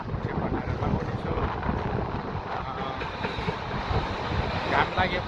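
Cold wind blows outdoors on a sunny day, buffeting the microphone as a continuous loud rumbling roar with no break.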